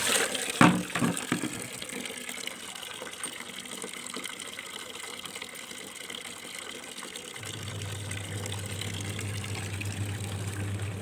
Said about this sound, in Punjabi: ਟੂਟੀ ਦਿੱਤੀ ਛੱਡ ਉਹਨੇ ਜੇ ਪਾਣੀ ਜਾਵੇ ਪਏ